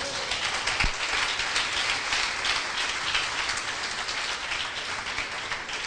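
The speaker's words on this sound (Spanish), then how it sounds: "Den un aplauso fuerte al Señor" Congregation applauding in a church after a pastor's call to praise, a dense, steady wash of clapping that sounds almost like rain, holding loud and even throughout with no talk over it.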